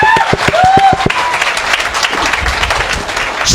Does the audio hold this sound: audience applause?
yes